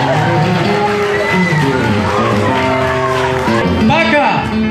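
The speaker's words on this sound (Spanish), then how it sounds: "¡Un aplauso para Luisa!" Crowd at a carnival theatre play cheering and shouting loudly, dense and close, with voices calling out over steady audience noise and applause.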